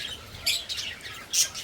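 Birds squabbling around clay nesting pots give quick, high chirps in two or three short bursts over a quiet outdoor background.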